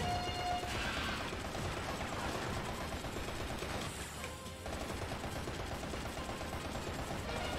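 Rapid, continuous gunfire from the action game Bayonetta, dense and sustained with barely a pause, mixed with mechanical clatter and game noise.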